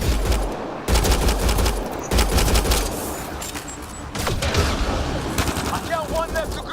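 Intense gunfire in the sci-fi shooter Mass Effect Andromeda: bursts of rapid automatic fire and heavy shots come in clusters with brief pauses, loud and close, mixed with scattered combat noise and some voice activity.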